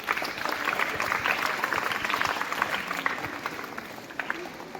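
An audience at a school Women's Day celebration applauds the women staff, a steady dense patter of many hands clapping throughout at moderate loudness, tapering slightly near the end.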